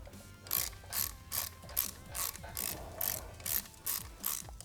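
A ratchet wrench with an 11mm socket tightens an exhaust clamp on a 2015-or-later Yamaha R3, producing about ten rhythmic bursts of sharp ratcheting clicks, close and distinct, with no talking.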